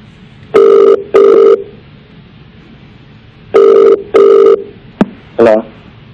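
A telephone rings loudly during a prank phone call, two paired bursts of electronic ringing separated by a quiet gap, followed by a short click and a wavering tone.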